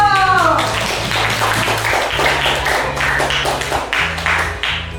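Rhythmic group clapping in a classroom, with steady hand claps repeating through the stretch while voices and a background hum carry underneath.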